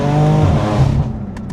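A BMW F82 M4's engine pulls hard under full load, a deep, steady close-up drone climbing briefly before easing off, with no one speaking.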